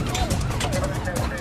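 A British Transport Police dog van's siren wails in a short rising-and-falling sweep over loud road and engine noise from inside the moving vehicle.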